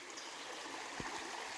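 Creek water runs at the crossing where the Lick Creek Bridge once stood along the Appalachian Trail in Virginia, a soft, steady rushing wash heard alone, with a faint low thump near the end.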